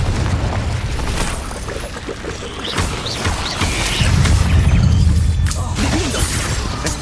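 Confringo explosion spells bursting in the Hogwarts Legacy video game on Xbox Series X, loud booming blasts and crashes piling up with a heavy rumble midway, close and continuous.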